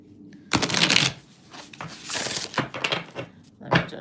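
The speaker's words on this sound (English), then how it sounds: "Let me just shuffle." Tarot cards shuffled by hand during a live reading, close and crisp: a long riffling burst, then several shorter flicking runs and taps, with no talk.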